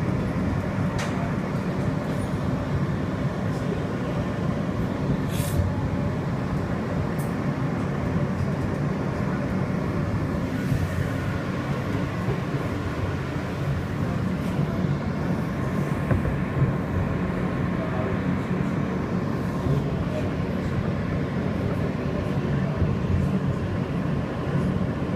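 An R160B subway train running on the N line on battery power, a steady loud rumble of wheels and car body rolling along the track for the whole stretch, with faint intermittent clicks and squeals above the drone.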